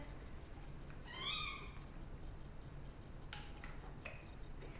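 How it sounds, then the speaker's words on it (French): A cat meows indoors, one drawn-out rising and falling call near the start, then a few shorter, fainter mews, over a steady low background hum with no talking. "On a le chat qui dit bonjour"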